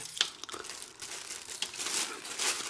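A garlic clove dropped into a plastic bag, with loud close crinkling and rustling of thin plastic that continues in uneven bursts throughout, no talking.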